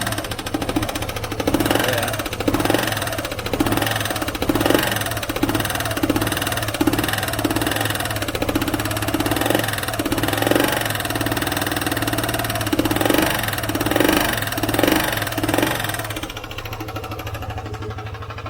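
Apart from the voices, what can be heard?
Vespa ET4 scooter engine idling with exhaust leak tapping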